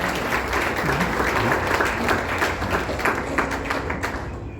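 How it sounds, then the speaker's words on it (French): A church congregation at a funeral wake applauds to acclaim the Lord, with loud, dense, sustained clapping from a large crowd filling the room throughout. "Est-ce qu'on peut acclamer le Seigneur?"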